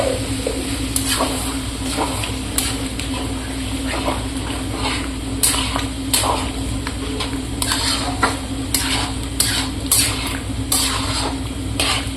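Chicken curry with potatoes being stirred in a pan, a steady scraping and clinking of a spoon against cookware over a soft continuous sizzle, close and fairly even throughout.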